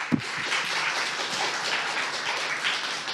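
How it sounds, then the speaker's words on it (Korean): An audience at a university forum claps for new student supporters, a dense, steady round of applause that holds evenly throughout after one sharp opening clap. "다시 한번 새 서포터즈 친구들에게 큰 박수 부탁드립니다"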